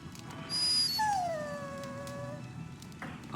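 A dog whimpers in the game Dragon Age Origins, a few high, drawn-out whining cries that rise and fall over a low background hum, close and clear.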